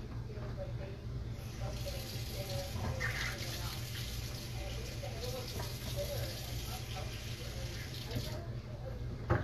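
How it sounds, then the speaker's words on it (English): Tap water runs steadily into a sink as hands are washed in a home kitchen, a continuous hiss under low background hum, with a voice talking over it. "I'm going to wash my hands real quick"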